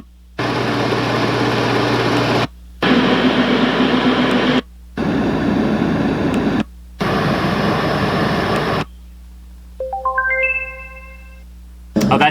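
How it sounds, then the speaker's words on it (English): A Renpho white noise machine cycles through several deep, steady hiss and fan-like noise settings, each broken by short silent gaps, and ends with a rising electronic chime sequence marking the end of the list. "So now we're going to go into the fan noises, or the white noises."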